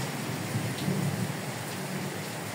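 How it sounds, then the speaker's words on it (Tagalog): Heavy rain pours steadily during a dark mountain rainstorm on Mt. Sicapoo, with a low rumble of thunder swelling briefly in the middle; no one speaks. "lakas ng kulog"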